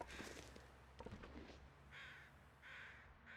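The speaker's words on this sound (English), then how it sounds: "So noisy, crows. You're so noisy." Crows cawing in the wintry survival game The Long Dark, several harsh caws early on followed by two longer, clearer calls, fairly distant against a quiet windy background.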